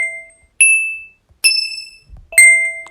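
A ding sound effect for a bell icon in a phone video editor rings out three times: clear, bright bell-like chimes, each ringing briefly before fading, with short silences between them.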